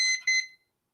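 A kitchen timer gives two quick, high electronic beeps close by, then falls silent.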